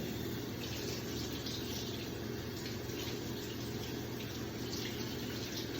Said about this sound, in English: You're going to get that wet with warm water.